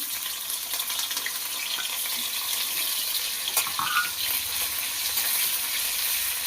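Green chilies and grated ginger with black cumin frying in oil, a constant bright sizzle close up with occasional stirring scrapes, steady throughout.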